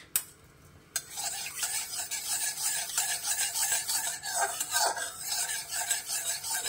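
Chopped garlic hits hot mustard oil with a sudden loud sizzle that settles into a steady, bright crackle, with scraping from stirring in the pan.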